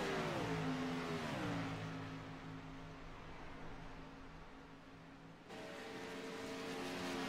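A NASCAR race car's engine drones steadily and loudly, its pitch sliding down as it slows into pit road, then picking back up near the end, with no talk over it.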